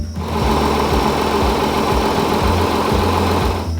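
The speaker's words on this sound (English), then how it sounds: "the sound of that V6" A V6 car engine idles loudly and close by, with a low throaty rumble and a steady, rapid pulsing beat, with no voices.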